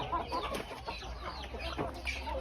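Village chickens at a house in the evening cluck and murmur in scattered, overlapping calls, fairly close and moderately quiet, with no talking.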